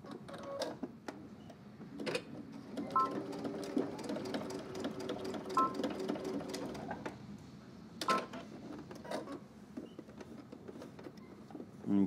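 A sewing machine tacks down belt loops in short whirring bursts separated by pauses, mid-loud and close, with soft handling clicks between runs.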